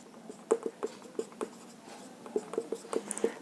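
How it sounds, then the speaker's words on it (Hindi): A pen scratches across paper close by, writing out a math question in short strokes and taps with brief pauses between. "पुनः लिखते हैं प्रश्न से।"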